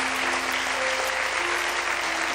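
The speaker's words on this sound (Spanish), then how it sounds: "Denle un aplauso de gratitud" Steady applause from a congregation at a church service, a dense even patter of clapping filling the room, with a faint sustained tone beneath it and no talking.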